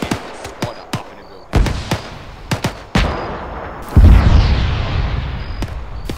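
Gunfire rings out during a military training exercise by Task Force Bravo, a series of sharp single shots spaced irregularly, then a heavier booming blast with a rumbling tail, mid-distance and loud.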